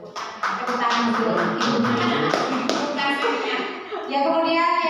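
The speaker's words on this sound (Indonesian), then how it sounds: "Ya, tepuk tangan dulu." People in a school session clap their hands in a quick, rhythmic pattern, close and fairly loud, with voices chanting or talking over the claps throughout.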